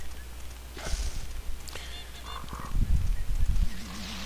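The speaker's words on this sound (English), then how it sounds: "And that's the sound of the dragon." Dragon creature in the video game The Legend of Zelda: Majora's Mask, honking, goose-like squawks and low rumbling calls over steady game background ambience, no talk.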